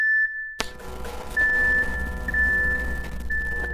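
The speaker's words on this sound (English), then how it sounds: "I eventually made an alarm dying sound I'm happy with" A dying alarm effect from an indie video game: a steady electronic beeping tone with repeated chirps over a low rumbling hum, fairly close and loud, with no one speaking.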